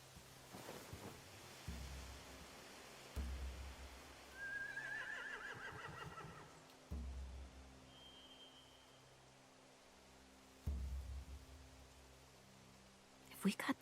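Horses neighing on a beach in The Walking Dead video game, a couple of distant whinnies over a low wash of surf and rumbling ambience, with quiet talk and a few heavy low thuds.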